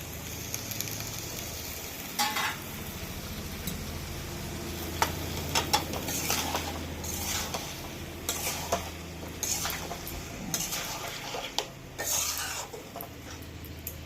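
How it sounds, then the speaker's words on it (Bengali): Tomatoes going into a frying curry of drumsticks, potatoes and soybean chunks, with a soft continuous sizzle under repeated stirring scrapes and utensil clicks against the pot, quiet and close, without speech. "এইবারে টমেটো গুলো দিয়ে দিবেন।"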